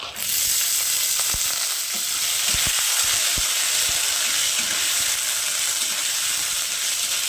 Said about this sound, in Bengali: ছোলাটাকে একটু ভেজে নেবো